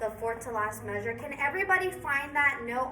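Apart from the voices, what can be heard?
No everyday noise stands out behind the speech.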